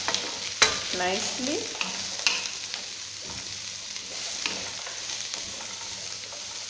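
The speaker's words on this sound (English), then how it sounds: "So next I'm going to add the carrots. Right. Then I'm going to stir" Carrots and mixed vegetables stir-fried in a hot pan, with scraping spatula strokes and a steady sizzle, a sharp clatter near the start, and a brief spoken word.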